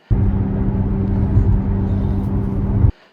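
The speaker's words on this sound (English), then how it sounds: "if you don't know what a wheel bearing going bad sounds like" Steady drone of a failing rear wheel bearing on a 2006 Lexus RX330, heard from inside the cabin as a continuous low road roar that runs evenly for about three seconds and then cuts off.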